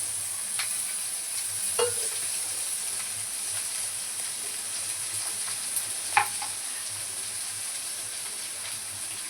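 Chopped tomatoes frying in a pan for egg bhurji, a soft steady sizzle and hiss with a couple of faint clicks of a utensil against the pan, quiet and close with no talking.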